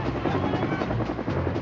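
A Colombian Army helicopter's rotor thumps in a fast, steady pulse over a constant engine roar, loud and close throughout the short stretch.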